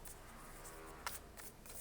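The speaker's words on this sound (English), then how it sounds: "But I'll just shuffle a couple more times to be sure." A deck of playing cards is shuffled quietly and close by, a soft riffling rustle with one sharp snap of cards partway through.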